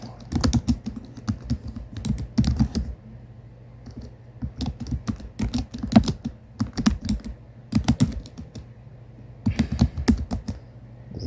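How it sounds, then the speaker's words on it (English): Keys clatter in quick bursts of typing on a computer keyboard, separated by short pauses, close and clear. "I was just typing up because I'm kind of curious"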